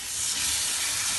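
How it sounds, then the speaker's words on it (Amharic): Okra sautés in oil in a hot pan, giving a dense, steady hiss of sizzling that runs loud and unbroken for the whole short stretch. "እንዲቁላላ እንተዋለን።"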